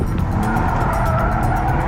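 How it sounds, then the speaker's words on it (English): A car doing donuts on the skid pad at Thunderhill, its engine droning loudly and continuously as the tires skid and squeal in a sustained rough roar. "This is gonna be my first time doing donuts."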